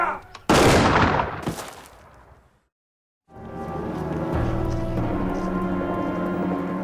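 A rifle volley fired together on a barked German command in a wartime Wehrmacht setting: one sharp, loud crack with a trailing rattle that fades out, then a pause before a steady rumbling background.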